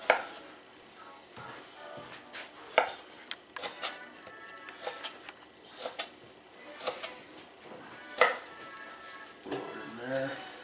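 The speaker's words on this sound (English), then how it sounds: "And you just cut this into cubes" Sharp chef knife cutting meat into cubes for breakfast sausage, quiet irregular knocks of the blade on a cutting board with soft slicing between, close and faint, no talk.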